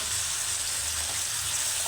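Tomatoes fry in a pan with a steady, moderately quiet hiss and crackle that does not let up, with no talking.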